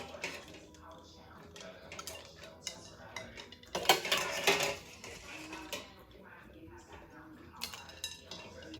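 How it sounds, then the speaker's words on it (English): Boiled eggs are moved from a pot into a bowl of ice water, giving scattered clinks and clatters of kitchenware with one louder cluster of knocks, fairly faint, while a person talks. "We're going to remove the eggs from the pot and place them into the ice bath to stop the cooking process."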